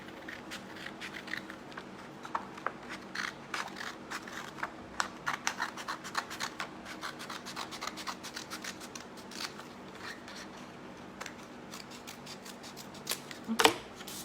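Scissors snip through paper for a handmade card, a rapid run of close, crisp cuts and scratchy rustles that grows busier near the end, with no talking.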